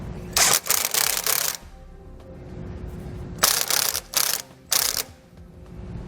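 A hand ratchet tightens bolts on a Firestone Ride-Rite air helper spring bracket on a 2017 Toyota Tundra, heard as several close, fast clicking bursts with short quiet gaps between them.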